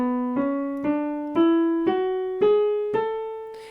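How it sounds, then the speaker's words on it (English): A piano plays the A Ionian scale one note at a time, seven evenly spaced notes climbing steadily upward, each struck cleanly and left to ring briefly before the next. "the A Ionian mode itself sounds like this, with each note played in sequence."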